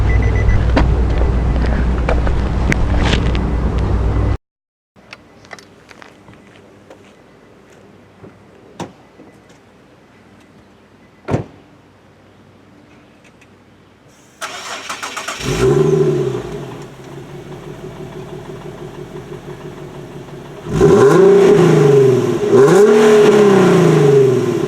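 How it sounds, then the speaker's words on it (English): Infiniti Q60 AWD coupe with twin-pipe exhaust: the engine starts after quiet moments with a door sound, then revs in repeated loud, close bursts that rise and fall. "Has exhaust, 2 twin pipes, and it sounds really good."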